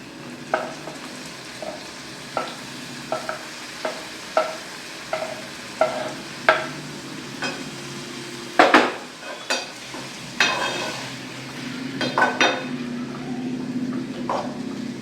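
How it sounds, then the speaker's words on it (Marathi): Chopped tomato dropped into hot oil for a quick tomato chutney, then stirred with a spoon: steady sizzling frying underneath a series of regular scraping stirs, with a louder burst of sizzle partway through. "टोमॅटो जो आहे तो मी कापून घेतलेला आहे आणि आपण त्याला ॲड करणार आहोत"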